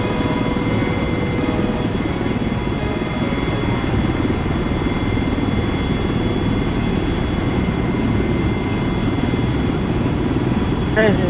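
Steady thumping helicopter rotor and engine drone in the video game Arma 3, loud and continuous throughout, with no talking.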